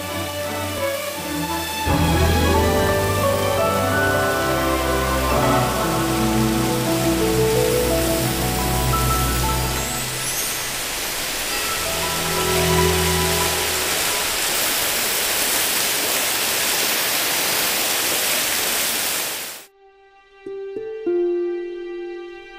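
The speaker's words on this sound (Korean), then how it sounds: "이제 폭포 소리가 발길을 재촉한다." Steady rushing water from a waterfall on Wibongsan mountain, Korea, fills the scene under sustained music, constant and broad, ending abruptly into a brief quiet musical tail.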